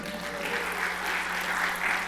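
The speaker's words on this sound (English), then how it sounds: "Give him a round of applause." Audience applause at a pinball convention panel about the makers of Barrels of Fun Pinball, a steady wash of clapping from a room crowd held at an even level throughout.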